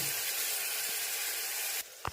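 Tomato, ginger and curry leaves sizzle loudly in hot oil as a tempering with mustard seeds, a close steady hiss that cuts off sharply near the end.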